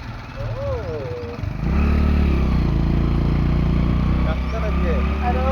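A motorcycle engine labours uphill, its rough clattering drone swelling louder partway through and holding a steady strained note, with a voice speaking over it at the start and end.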